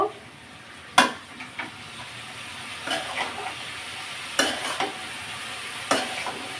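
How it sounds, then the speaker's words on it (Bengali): Shredded cabbage stir-fried in oil in a pan, a soft steady sizzle with intermittent sharp scraping clatters of a spatula stirring, close and moderately quiet, with no talking. "এখন তেলের সাথে বাঁধাকপিগুলো একটু ভাজা ভাজা করে নিব"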